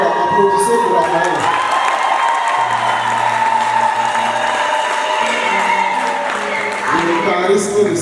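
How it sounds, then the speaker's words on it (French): Wedding guests applaud and cheer, with a continuous crowd roar, whoops and clapping under music, and voices calling out amid the noise. "jaloux, applaudissez pour Raphaël"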